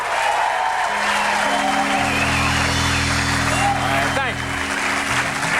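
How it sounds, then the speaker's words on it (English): A television talk show studio audience applauds, a loud steady roar of clapping with a low sustained tone and some murmured voices underneath. "That is a huge round of applause from people who are glad you're off the market."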